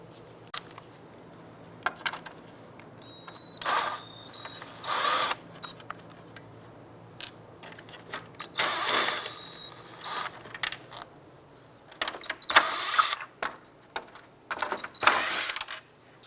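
A power drill or driver backs six capture nuts off the grille trim of a 2004-2012 Chevrolet Colorado, in several short whirring bursts with quiet pauses and light clicks between them, close by and without talk.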